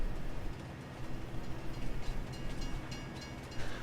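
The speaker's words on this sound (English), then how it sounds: "If you ever get a chance in the game, drive the train." Train rumbling along the tracks in the video game Farming Simulator 22, a steady heavy low roar with rhythmic clatter of wheels over rails, close and continuous with no talking.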